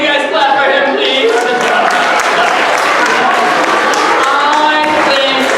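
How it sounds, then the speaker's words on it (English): A crowd of children and adults at a church science show claps steadily for a volunteer, the dense close applause running without a break and mixed with crowd noise and a few voices. "Can you guys clap for him, please?"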